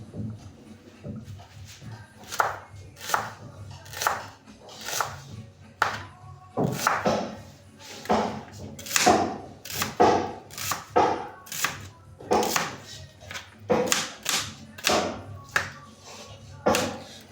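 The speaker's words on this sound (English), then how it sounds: "Then I'll have to cut my onions." Onions being chopped with a knife for a sardine dish: a steady series of sharp, close board taps, speeding into quick runs in the second half, with a faint low hum and light background speech now and then.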